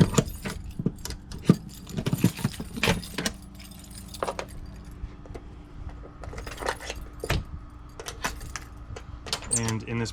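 A silver ABUS triangular key jangles and clicks in sharp, irregular bursts while black dust cap locks on a Toyota Land Cruiser BJ45 are opened, close up, with a low background hum.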